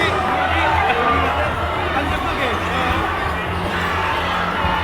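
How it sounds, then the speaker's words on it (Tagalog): A basketball arena crowd roars in a steady, dense wall of cheering and chatter after a three-point shot in a championship game, loud and sustained throughout. "The crowd explodes."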